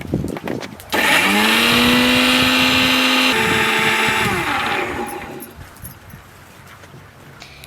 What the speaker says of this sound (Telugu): ఉల్లిపాయలు పచ్చిమిరకాయలు పెద్దగా పేస్ట్ పట్టుకోవాలి